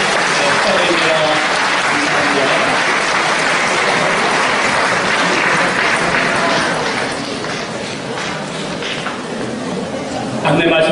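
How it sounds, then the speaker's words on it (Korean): Congregation at a Methodist annual conference applauding retiring pastors, a long, even roar of many hands clapping that softens midway before rising again. "우리 다시 한번 박수해드리십시다"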